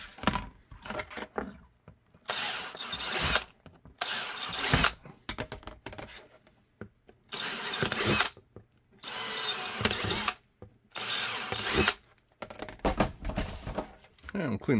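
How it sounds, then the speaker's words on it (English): A drill with a countersink bit deburrs a hole in a holster in a series of short, close whirring bursts separated by pauses, with a voice speaking quietly between them. "we'll clean the hole with the countersink bit I use for deburring"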